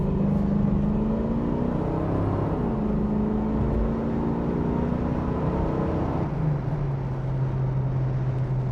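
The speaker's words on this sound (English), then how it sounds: "This car rips." A 1979 Pontiac Trans Am accelerates on the road, its engine droning steadily from inside the car with a rising tone, then a gear change partway through and continued loud cruising.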